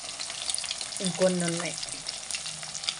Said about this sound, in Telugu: చేపలు వేగుతున్నాయండి, చూడండి ఎలా ఉన్నాయో